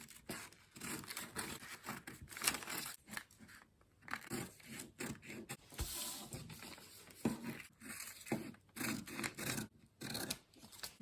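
Scissors cut a paper dress pattern for an off-shoulder bustier, producing close, quiet crunching snips in irregular bursts with brief pauses, with no talking.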